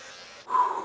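An electric trimmer cuts off a year-long beard, its close, steady buzz starting abruptly partway through after a quieter moment, with no talking.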